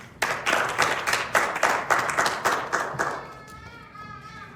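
A church congregation claps in rhythm, about a dozen evenly spaced, close hand claps that then stop, leaving a faint voice or tone trailing afterward.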